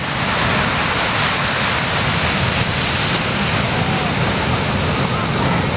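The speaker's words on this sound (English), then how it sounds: "So out there you're looking at anywhere between 15 to 20 foot waves" Huge 15 to 20 foot surf waves pounding at Banzai Pipeline, Hawaii, a loud, continuous roaring wash of breaking water that stays dense and steady throughout, with wind rumble mixed in.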